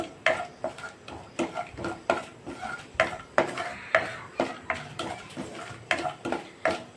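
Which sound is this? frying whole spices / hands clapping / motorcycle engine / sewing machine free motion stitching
frying whole spices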